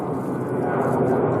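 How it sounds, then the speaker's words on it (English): Propeller or jet airplane passing overhead beside a disused railway line near Warrington and Cadishead, a steady broad engine roar held at constant loudness throughout, fairly close and alone without talk. "sorry about the plane"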